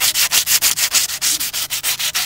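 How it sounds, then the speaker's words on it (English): Rusty metal on a bugout vehicle being sanded by hand with medium grit sandpaper, a close, loud run of about fourteen steady back-and-forth rasping strokes in even rhythm, with no voices. "I've started to sand it down."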